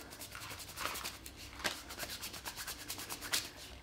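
A strip is rubbed by hand to warm it up before a squat challenge, with brisk, repeated scraping strokes close by at a fairly quiet level and a few sharper swipes, with no talking.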